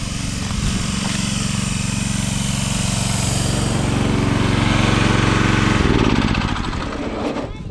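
A tractor engine runs steadily and loudly while tilling up a yard area, a continuous rumbling drone with rattling harmonics that shifts briefly near the end.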